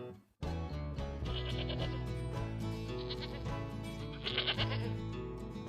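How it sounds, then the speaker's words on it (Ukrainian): A long, quavering goat bleat rises and falls continuously, loud and close, with a brighter burst toward the end. "Це коза."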